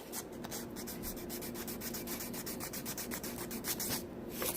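Stainless steel replica sword blade being polished by hand toward a mirror shine, a steady close rubbing and sanding swish repeating in quick strokes throughout, with no talk.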